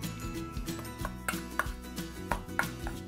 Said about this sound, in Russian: Все это перемешиваем.